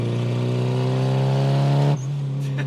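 A Nissan 240SX S14 with an SR20 engine holds a loud, steady high rev close by for about two seconds, then the note abruptly drops to a lower idle.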